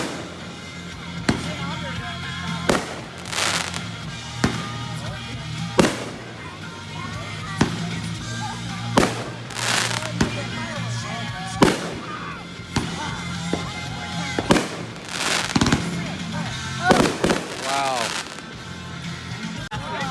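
Backyard mortar fireworks for a July 4th display in Fort Myers, Florida, burst in a steady series of sharp, loud booms, roughly one every second or two, with people talking between blasts.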